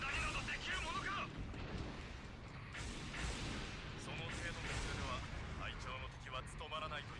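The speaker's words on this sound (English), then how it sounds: "every time you swing, there's explosions from your allies around you" Repeated booms and blasts from allied attacks in the Gundam Battlefield Record U.C. 0081 video game keep crackling through a busy battle mix, steady and dense, with a voice talking over part of it.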